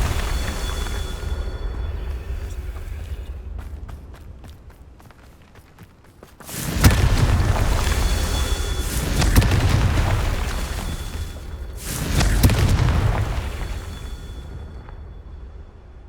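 Confringo fire spell in the video game Hogwarts Legacy, heard as two heavy booming blasts several seconds apart, each with a long rumbling tail over steady ambient game sound.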